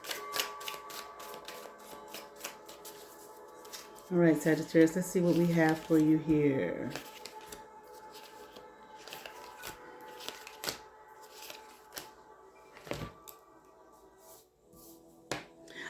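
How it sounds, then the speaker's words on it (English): Crisp, rapid riffling and flicking of tarot cards in repeated bursts, including a butterfly shuffle, with a person speaking briefly in the middle. "One more butterfly shuffle"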